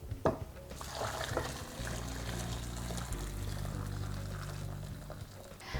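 Hot marinade pours and trickles steadily over chicken drumsticks for several seconds against a low background hum, close by with no talking.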